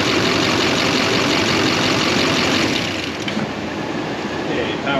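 A Duramax diesel pickup idles with a loud, steady low rumble and broad mechanical noise that dips slightly partway through, heard close up without talk.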